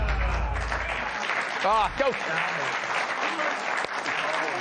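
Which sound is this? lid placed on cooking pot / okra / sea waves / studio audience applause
studio audience applause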